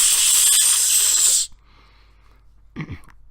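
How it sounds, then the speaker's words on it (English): Deodorant aerosol spraying then catching fire: a loud, steady hiss for about a second and a half, cut off abruptly, followed by a faint crackle and a short low whoosh near the end. "And that was the sound of deodorant spraying then catching on fire."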